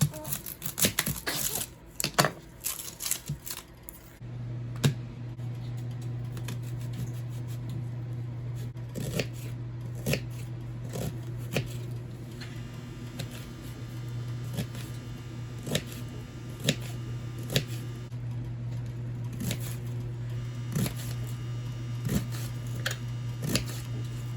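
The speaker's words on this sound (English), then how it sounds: "we're gonna go ahead and dice up one whole onion" A knife chops a whole onion on a cutting board in a home kitchen, making steady rapid taps close by with a low constant hum underneath.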